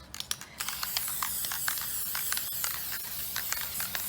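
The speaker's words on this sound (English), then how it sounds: "Now I am going to spray a clear spray paint over the entire layer." UV clear spray paint sprayed over an epoxy resin coating, a close hiss in repeated short bursts with brief gaps and soft clicks between spritzes.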